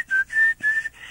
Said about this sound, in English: Now, I recall your whistle as being like that.